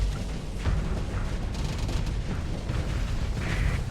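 Sustained barrage of booming explosions in Starsector space combat, a dense rumbling roar of overlapping blasts that stays loud throughout with no speech.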